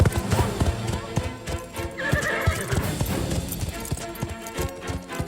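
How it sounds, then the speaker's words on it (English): A horse neighs and its hooves clop steadily as it is ridden toward a group of children in a 2022 film, the hoofbeats loud and close with voices talking over them. "Horse, oh my god."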